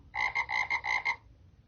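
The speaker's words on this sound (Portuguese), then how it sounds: "Sapo" Frog croaking sound effect from a mobile sound-effects app: a rapid series of about six bright, rhythmic croaks in quick succession, clear and close, then silence.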